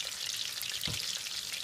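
Ham frying in a pan while making Puerto Rican-style hot dog tacos gives a steady, close, dense sizzle and crackle with no talking.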